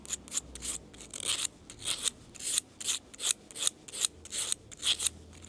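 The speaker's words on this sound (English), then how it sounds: "it'll get smoothed out because it's getting rid of the rust particles that are on the blade." Rusty gardening shear blade being sharpened, a steady run of about a dozen rhythmic rasping strokes, close and clear with no talking.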